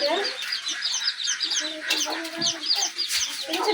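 A hen clucks repeatedly up close, with her chicks' high peeping calls mixed throughout.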